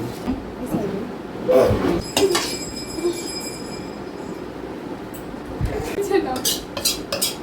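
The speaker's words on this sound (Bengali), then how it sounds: "মাংস ঢেলে দিচ্ছ?" Chicken curry meat is poured onto a plate at home, with scattered clinks, scrapes and clatter of a spoon against the dish, close and irregular.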